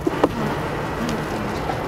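Honeybees around an opened hive make a dense, continuous low buzz that fills the whole stretch, steady and fairly close, with a few faint taps over it.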